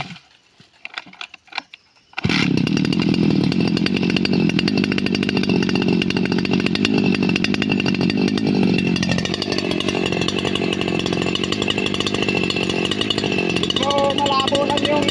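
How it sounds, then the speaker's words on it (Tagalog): A grass cutter engine starts up after a few faint clicks and then runs loud and steady, a dense buzzing drone that holds with a slight pitch shift partway through. "Start muna natin yung grass cutter natin."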